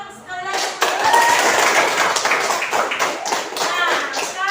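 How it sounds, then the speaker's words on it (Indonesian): Classroom students clap together for group presentations, a burst of scattered hand claps with some taps and thumps, fairly close, with a voice speaking over the clapping. "Tepuk tangan sekali lagi."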